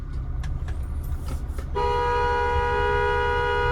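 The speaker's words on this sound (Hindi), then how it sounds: "अब मैंने हॉर्न दे दिया" A car horn blares in one long, steady honk over the low rumble of an engine in a narrow lane, close and loud.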